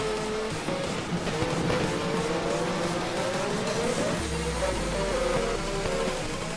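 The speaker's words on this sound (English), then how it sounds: "That's just a safety car." Safety car leading the pack around the Fuji or Las Vegas circuit in a racing game, a steady engine drone with a pitch that rises and falls, joined by a deeper low rumble partway through, no talk.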